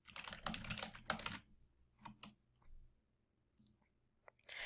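Quick bursts of keystrokes on a computer keyboard, a school name being typed in short clustered runs with pauses between, close and fairly soft in a quiet room.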